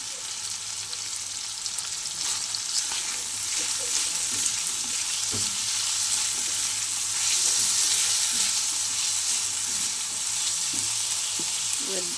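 Leafy greens with a little potato fry in a pan with a steady, bright sizzle, joined by the scrape and knock of stirring throughout.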